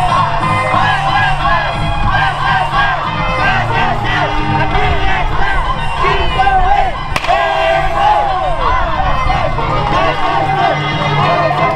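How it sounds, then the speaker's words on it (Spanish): A school audience of mostly children cheers, shouts and claps loudly and continuously for a fifth-grade class performing the Carnaval Marqueño dance, with an announcer's voice mixed into the dense crowd noise. "recibamos con un fuerte bote de aplausos."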